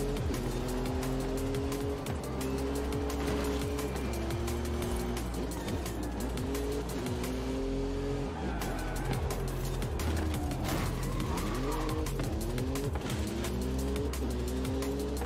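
A Ford Bronco truck drives in the Forza Horizon 5 video game, its engine droning steadily and loudly throughout with rising and falling revs as it shifts, plus brief tire noise.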